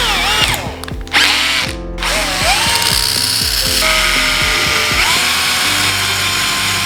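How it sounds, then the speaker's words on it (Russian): A cordless drill with a homemade sanding attachment sands hard-to-reach spots on a solid wood cutting board. The motor whirs up and down in repeated bursts, loud and close, with no voices. "И с помощью вот таких вот насадок на шуруповерт."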